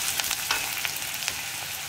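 Papaya pieces stir-fry with onions in a hot pan: a steady close sizzle with intermittent scraping and stirring clatters, no voices.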